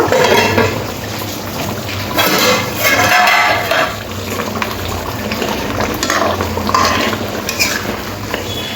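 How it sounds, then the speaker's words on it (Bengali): Chicken chaap being stirred in a pan on the stove, with steady scraping and clinking of a spoon against metal over a continuous bubbling simmer, close and fairly loud, with no talking. "একটু মিশিয়ে নেবো নাড়াচাড়া করে"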